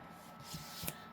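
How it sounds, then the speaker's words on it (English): A quick riffle of cards shuffled close by, a soft rustling burst followed by a sharper snap at the end, with no voices. "here's that shuffle."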